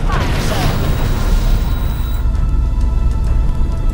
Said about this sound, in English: Someone actually shooting cannonballs?